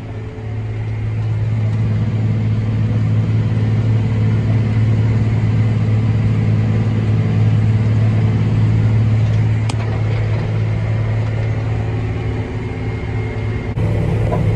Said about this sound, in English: The straight pipe sounds pretty good, but when you're in the cab for a while, it starts to get a little bit of a drone to it.